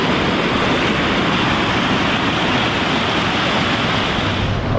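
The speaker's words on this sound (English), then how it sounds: "The rapids downtown." River rapids rushing through a downtown Colorado town, a loud, steady broadband roar of churning whitewater that fills the whole stretch without a break.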